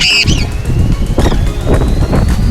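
A Pionus parrot flies free outdoors in Scotland, its wings flapping in steady, close whooshing beats across the whole stretch, with a few bright chirps near the start.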